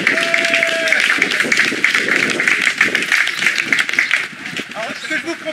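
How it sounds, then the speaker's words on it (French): A group of about fifty people gathered outdoors clapping for themselves, steady, dense applause that tapers off toward the end, mixed with voices. "On peut s'applaudir déjà là-dessus."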